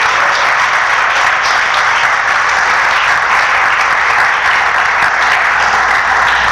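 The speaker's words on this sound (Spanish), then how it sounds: "Denle un aplauso al Señor" A church congregation applauds at a Spanish-language service, a loud, steady wash of clapping that continues unbroken throughout, with no speech over it.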